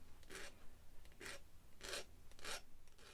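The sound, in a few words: filing sharp edges to taper a stocking stuffer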